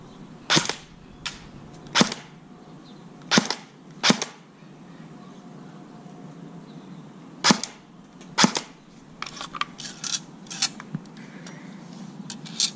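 An airsoft M4 rifle fires sharp, snappy single shots spaced irregularly, several loud cracks at first, then a pause and a cluster of quieter pops, with no voices.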